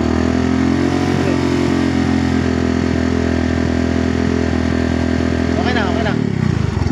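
A motorcycle engine is revved hard while being tested for a weak charging system, a loud sustained buzzing roar held steady for several seconds before dropping back; a man calls out over it.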